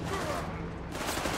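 Dense, continuous bursts of gunfire in the WWII strategy game Company of Heroes 3, a loud, rattling battle din that fills the moment, with a voice talking over it.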